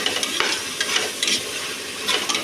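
Coriander, curry leaves and mint sizzle in hot oil in a pan for chicken biryani while a spoon stirs and scrapes in quick repeated strokes, close up and without speech.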